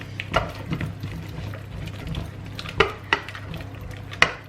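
Cheese stirred into a thick bechamel sauce in a pan taken off the heat: slow, soft scraping of a spoon through the dense sauce with a few sharp clinks against the pan, close and quiet.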